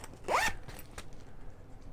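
A zipper on a fabric emergency kit bag is pulled open in one quick, close zip, followed by faint handling sounds.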